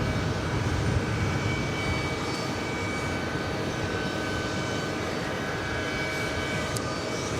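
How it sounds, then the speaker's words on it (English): An Air Europa Boeing Dreamliner taxiing toward the gates at JFK makes a steady, moderate engine hum and whine with no talk. "second one that we've seen here today, heading to the gates."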